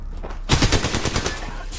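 Rapid automatic gunfire in a video game, a dense burst of sharp cracks after a brief quiet start, loud and close, continuing to the end.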